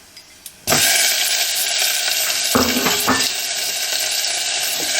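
Chopped tomato drops into hot oil in a pan and erupts into a loud, close sizzle that holds steady, with a few clanks of the spatula stirring partway through.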